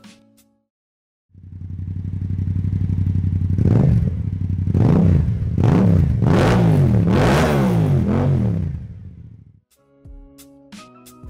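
A Yamaha CP2 689cc crossplane twin motorcycle engine idles steadily, then is blipped through a series of rising revs, each swelling louder before dropping back, with the engine cutting off abruptly near the end.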